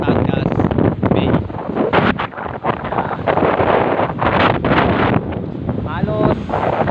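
Strong sea waves roll in at the beach of San Juan, Batangas, under heavy, gusting wind that buffets the microphone loudly and almost constantly.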